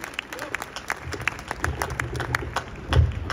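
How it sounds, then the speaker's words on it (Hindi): An outdoor crowd at a Hindi poetry recital during the Matsya Utsav festival in Alwar claps for poet Balbeer Singh Karun, scattered individual claps at irregular intervals with some background murmur and a low thump near the end. "एक बार जोरदार तालियां बलवीर सिंह जी करुण के लिए"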